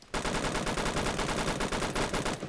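Rapid, loud G3 battle rifle gunfire in the Roblox shooter Phantom Forces, a sustained burst of evenly spaced shots starting abruptly and continuing close and dense throughout.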